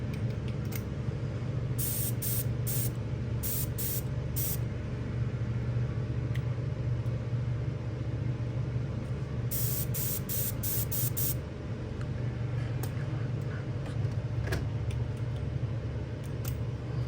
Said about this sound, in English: we'll just spray this around for a minute and get a little nice coat on it.